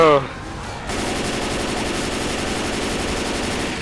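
Rapid automatic gunfire from the zombie shooter game Left 4 Dead, a sustained burst of loud repeated shots that cuts in sharply after a brief opening moment and holds steady to the end.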